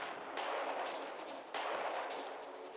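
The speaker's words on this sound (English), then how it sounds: "I'm just gonna send them in for tactical airstrike." Tactical airstrike explosions in the Radio General World War II strategy game: two heavy, rumbling blasts in quick succession, each swelling into a dense roar that fills the clip, loud and close with no talking.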